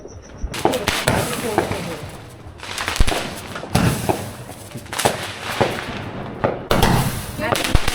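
Fireworks and firecrackers go off for Tet new year near the beach in Hoi An, Vietnam, as a run of loud, irregular crackling bangs and pops, some near and some farther off, while people talk underneath.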